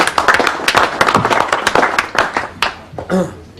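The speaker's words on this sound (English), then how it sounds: "I'd like to hear a nice big warm round of applause, please, for Norman Penfold and his squeeze box" Warm audience applause for Norman Penfold and his squeeze box at an angling club Christmas party, a dense burst of clapping with a few brief voices mixed in, fading out near the end.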